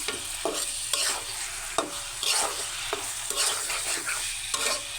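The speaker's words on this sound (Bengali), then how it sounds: "আমি হালকা করে একটু এই তেলটা একটু ভাজা মানে কাঁচা যাতে না থাকে তেলটা একটু ভাজা করে নিই" Oil being fried and stirred in a pan for a village Bengali dish, with a steady close sizzle broken by repeated scraping stir strokes about once a second, and no voices.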